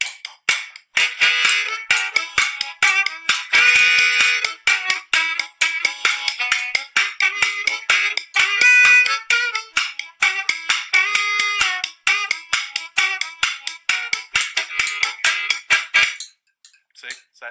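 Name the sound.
harmonica (harp) playing rhythm accenting 2 and 4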